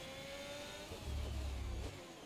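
A Formula 1 car in F1 2021 at Hungary, its engine holding a steady whine and then swelling briefly into a deep, loud revving roar before easing back.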